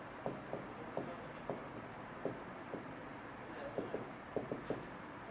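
Marker or chalk strokes on a board during a chemistry lecture, a quiet room where short scratchy taps and squeaks come in irregular bursts, faint and close, with no talking.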